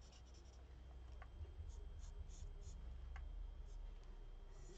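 Marker or pen scratching steadily across a card while colouring in Dark Daffodil Delight, a soft continuous scribbling close by under low background hum, with occasional faint ticks.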